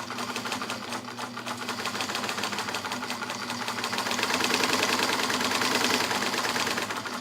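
Morse Super Dial heavy-duty sewing machine stitching over the thick seam of cargo pants, a steady rapid mechanical whirring and clatter that builds slightly louder midway, with no talking.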